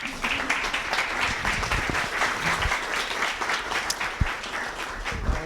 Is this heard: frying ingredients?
no